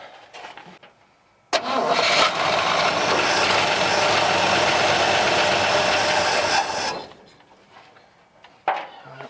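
A burnt Chevrolet C10 truck engine cranks with a sudden loud catch and then roars steadily for several seconds before cutting off, followed by a brief clunk; close and loud with no talk.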